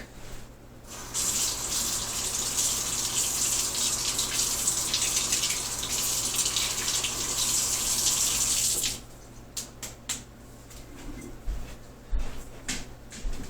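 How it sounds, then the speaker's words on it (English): A PVC katana blade is rinsed under a running sink tap, a loud, steady rush of water for about eight seconds. The water then shuts off, leaving clunks and knocks from handling at the sink. "So let me just run that under the sink."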